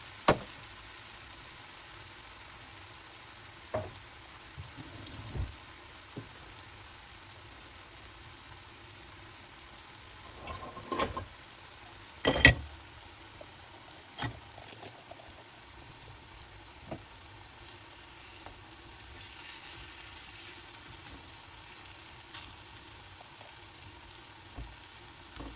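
Banana cake batter cooking in a nonstick pan, a quiet steady sizzle and frying hiss throughout with occasional louder pops and crackles, close and alone without any voices.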